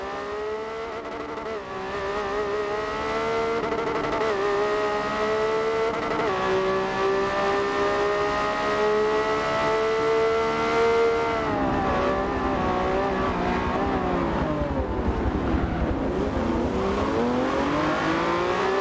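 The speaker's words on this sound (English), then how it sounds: "another thing that's amazing to hear is a V12 engine raring away" A naturally aspirated 6.5-liter V12 race car in the Forza video game holds a loud, continuous howl, its pitch climbing and falling through gear changes over nearly twenty seconds, with no voices over it.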